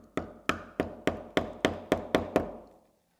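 A mallet strikes a wood chisel nine times at a steady, even pace, each blow a sharp close knock with a short ringing decay, cutting out wood for a bench build, no talking.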